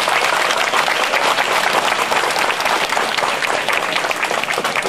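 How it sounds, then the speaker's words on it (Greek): An audience at a Cretan village festival for Saint Titus applauds loudly and steadily, dense clapping from a large crowd sustained throughout. "Το Μιχάλη τον Πλατήραχο, για τον οποίο θέλω το χειροκρότημά σας."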